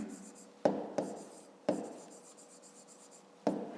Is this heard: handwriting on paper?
yes